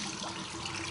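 Cold water running from a tap in a steady, soft rushing stream, quiet and unbroken for the whole moment, with no voices over it.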